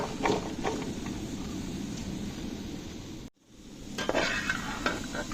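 Vegetable pieces for a Kerala sadhya dish turned in an oiled pan, a constant hissing sizzle with occasional spoon scrapes, cutting out briefly before resuming.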